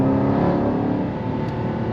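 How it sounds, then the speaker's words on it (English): Jaguar XE SV Project 8 sedan with its active exhaust open in sport and track mode, heard from inside the cabin as a steady, loud, throaty engine drone with a sustained rumble and no talk over it. "when you turn the active exhaust on and drop it in the sport and track, you hear it all through the car"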